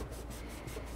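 Steady back-and-forth scrubbing of a Ninja Foodi XL grill, with a magic eraser rubbing hard over baked-on grime, continuous and close.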